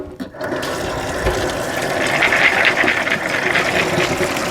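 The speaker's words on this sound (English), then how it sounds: "I'm going to rinse them with cold water and then I'm going to put them in my pot." Soaked beans being rinsed under a cold kitchen tap, with a steady rush of running water splashing into a colander for several seconds, close and fairly loud, with no talking.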